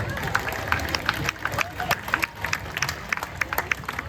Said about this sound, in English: How about a big round of applause for our volunteer?